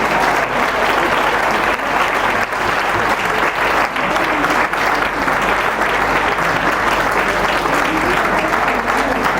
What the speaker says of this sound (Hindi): तालियों की गड़गड़ाहट में कोई कमी नहीं आनी चाहिए।